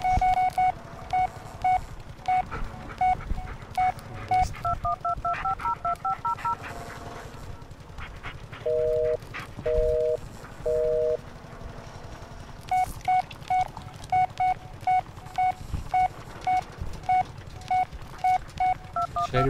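Phone dialing in the Blair Witch video game: clipped keypad tones beep in steady rhythmic runs, broken by a few paired longer tones midway, over a low background rumble, with no talking.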